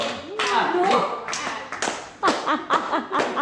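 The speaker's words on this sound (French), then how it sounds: "On peut l'encourager, on l'applaudit très fort." Children clapping for a magician at a birthday party, a few scattered uneven claps and taps with voices and light laughter between them, near and fairly sparse.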